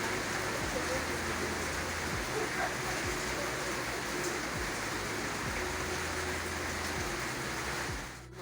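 Steady rain falls in the Kenyan countryside, a dense, even hiss that runs unbroken for several seconds with no voices.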